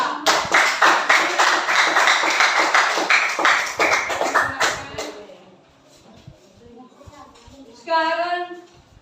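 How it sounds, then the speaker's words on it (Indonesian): A classroom group applauds a student team, giving a burst of brisk, close clapping for about five seconds before it fades into quiet room murmur. A voice speaks near the end. "kita tepuk tangan untuk kelompok"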